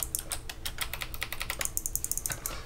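Rapid, close typing on a Hexgears Supernova mechanical keyboard fitted with clicky Kailh Box Jade switches, giving sharp bright clicks in an uneven stream of keystrokes.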